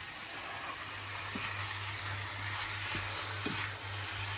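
Meat sizzling as it fries in oil in a pan, with a steady, close hiss and crackle that carries on alone over a faint low hum.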